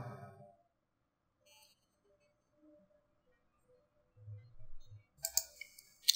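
A computer mouse clicks on a downloaded file in a few faint, quick clicks close by. The room around them is otherwise almost silent.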